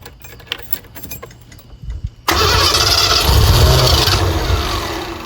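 A long-abandoned converted tiny-home van turns over on the key: quiet clicks and rustling first, then a sudden loud burst of cranking that catches into a steady, rough engine run for the last three seconds.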